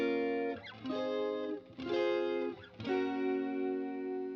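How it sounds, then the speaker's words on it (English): Clean electric guitar chords strummed three times, each left ringing with a full, bright tone, played alone with no other sounds. "Guitars without the processing."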